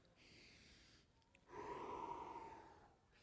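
Faint, close breathing from a person doing a neck mobility stretch for golfers, with a softer exhale followed by a longer, stronger breath.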